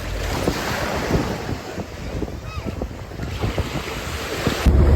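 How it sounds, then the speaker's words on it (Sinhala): Steady wash of sea waves and wind buffeting the microphone, with a boat engine's low rumble underneath throughout. "අපි දැන් බෝට් රයිඩ් එකක් යන්න හදන්නේ. මේක තමයි අපේ බෝට් එක."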